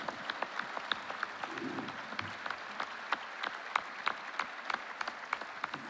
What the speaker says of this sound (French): Je voudrais que vous lui adressiez beaucoup d'applaudissements parce qu'il a fait un gros travail pendant 4 ans.